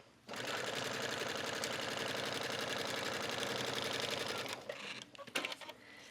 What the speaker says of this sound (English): that is when you're sewing both of these layers on top of each other